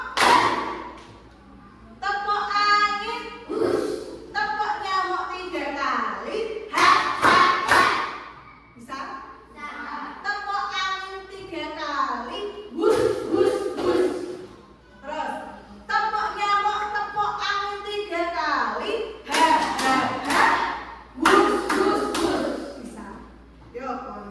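Children playing the 'tepuk nyamuk' clapping game in a classroom, sharp hand claps landing in short bursts between an adult's sung and spoken instructions and the group's voices.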